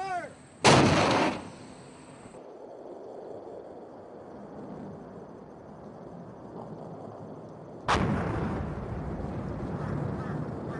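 Airsoft guns firing during an outdoor team game: two loud bursts, one at the start and another near the end, with a steady hiss of rustling noise between them and a faint voice early on.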